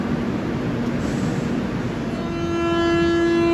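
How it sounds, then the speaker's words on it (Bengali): An Indian express train on the Kolkata to Puri route pulls out of a station, heard from inside a carriage: a dense, steady rumble that swells toward the end, where a sustained tonal whine or horn rises above it. "1 মিনিট দাঁড়িয়ে ট্রেন ছেড়ে দিল"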